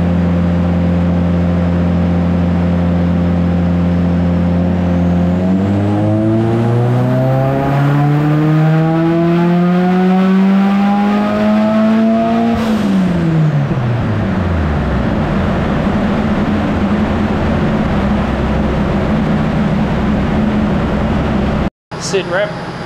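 A turbocharged Nissan Silvia S15 revving on a dyno, idling steadily, then climbing hard to a high scream before dropping back, loud and close, with a sharp click near the end.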